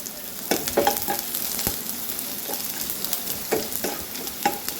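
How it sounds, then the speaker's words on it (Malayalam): Small shallots sizzling and crackling in hot oil in a pan for a buttermilk curry, a steady soft fry punctuated by scraping stirs of a spoon, with no talking. "ചെറിയ ഉള്ളി ഇട്ട് കൊടുക്കുക. ഇത് നല്ലോണം ഒന്ന് ബ്രൗൺ ആവണ വരെ വറക്കണം, മൂപ്പിച്ചെടുക്കണം."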